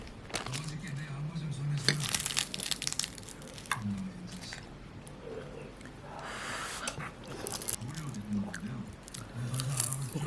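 Someone eats food wrapped with gim, Korean roasted seaweed, close to the mic. Soft, irregular chewing and crunchy bites come in bursts, quiet overall.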